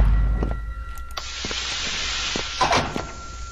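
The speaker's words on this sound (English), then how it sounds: "Close the door!" A heavy sliding door in SCP Containment Breach, a thud at the start followed by a long grinding slide and a final clunk, loud and close.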